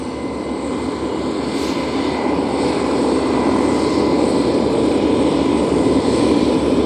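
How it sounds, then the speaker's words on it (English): A propeller airplane at London International Airport, its engine a steady loud drone with a broad rushing roar that holds throughout without pause. "Beauty plane in the background."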